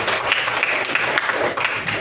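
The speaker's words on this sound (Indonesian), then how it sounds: "Tepuk tangan buat Nadi" Classroom of students clapping for a classmate during a lesson, a brief patter of light hand claps that is fairly close and steady.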